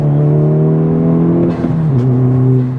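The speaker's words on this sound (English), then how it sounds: "So a quick shift, give it some gas." Car engine with a manual transmission revving loud and close, its steady drone dipping briefly as the gear is shifted quickly, then settling back to a lower, even hum.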